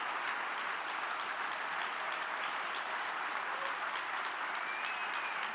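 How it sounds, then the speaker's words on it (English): Audience applause at a General Assembly closing plenary, a large crowd producing a dense, continuous wash of clapping that stays even and sustained, somewhat distant in a big hall. "if everyone can join me in applauding Julie."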